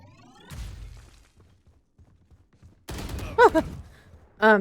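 A grenade goes off in the video game Valorant: a sharp, loud blast bursts out after a quiet stretch, followed by clipped electronic game effects and a second loud burst at the end.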